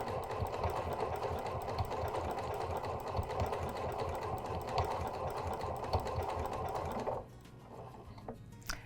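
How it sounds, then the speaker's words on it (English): A Janome sewing machine runs a triple stitch in a fast, even mechanical chatter that continues steadily for about seven seconds, then stops, leaving quiet room tone. "the triple stitch is where the bobbin thread gets pulled up"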